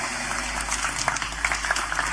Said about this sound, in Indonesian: ini tepuk tangan sing banter, ndak usah malu-malu